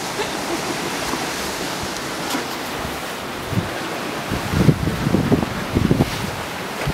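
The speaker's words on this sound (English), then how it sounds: "There's the waves." Ocean waves wash and roll against a rocky shore beside a yoga spot, a continuous surf hiss mixed with wind rumble, with a few louder surges and thumps toward the end, no voices.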